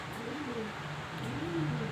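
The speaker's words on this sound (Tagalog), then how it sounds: "silipin nyo yung mga breeder natin, mga kalapatids" Pigeons in a breeder cage give soft, low cooing calls, a few rounding phrases close by, steady over a faint background hiss.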